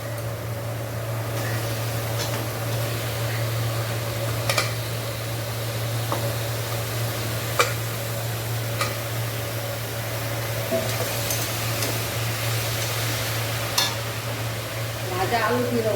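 Young green jackfruit frying and stirred in a pan, a steady sizzle under a constant low hum, with occasional clicks and scrapes of the spatula against the pan scattered throughout.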